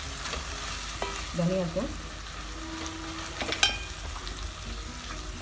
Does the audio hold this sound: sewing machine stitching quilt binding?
no